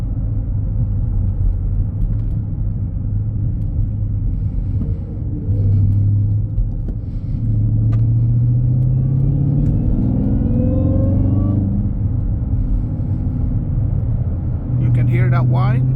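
A Dodge Charger SRT Hellcat widebody with a cold air intake drives along with a loud, steady low rumble. A rising and falling intake whine sits on top as the car accelerates and shifts, captured from inside the cabin.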